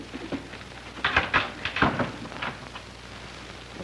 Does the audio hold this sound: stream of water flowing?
no